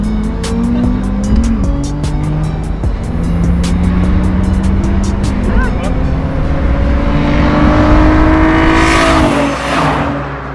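A Nissan 350Z and a Genesis Coupe 2.0T accelerate hard in a race, engines rising through gears with tire squeal and passing-car rush, loud and close, with voices talking over the engine noise.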